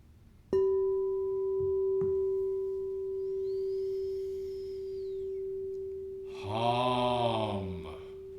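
Sound healing tone for the throat chakra, a pure steady sine-like note that begins abruptly and holds clear and sustained for several seconds, joined near the end by a person humming along in a resonant voice.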